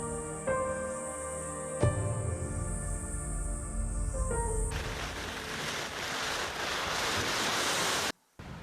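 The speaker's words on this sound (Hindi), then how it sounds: "तो अभी हम एक वाटरफॉल पॉइंट पे रुके हैं।" Rushing waterfall at a rest stop on a Himalayan trek toward the Valley of Flowers, a steady broadband roar of falling water with no talk, briefly cut off near the end.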